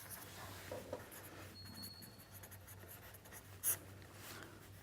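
Faint, close scratching of writing during a statistics lecture on sufficiency, with soft strokes over a low steady hum and one brief sharp tap near the end.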